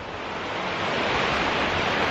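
Laurel Creek rushing steadily beside a tent at a streamside campsite on the Appalachian Trail, a dense continuous wash of flowing water close by with no talk over it.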